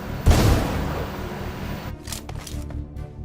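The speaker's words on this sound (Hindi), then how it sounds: "अब ये गोली चली तो, पर कहां से चली ये न समझ में आया।" A sharp, loud gunshot in the video game BGMI bursts out at the start and rings off, followed by a few fainter crackling shots from a distance.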